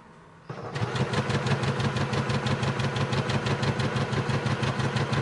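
A sewing machine stitches fabric for a machine cover, starting up abruptly after a quiet moment and then running in a fast, even rhythmic chatter close by.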